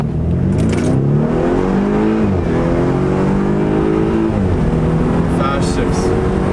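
BMW 428i M Sport with a muffler delete and 8-speed gearbox revs hard through quick upshifts, each rising harmonic sweep dropping sharply at the shift; the loud, raspy engine fills the cabin alone throughout.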